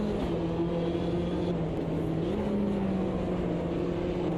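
Race car engine from the sim game Automobilista 2, wheels spinning on cold tyres: a steady, loud drone with a constant pitch and a slight rise near the middle, running without a break.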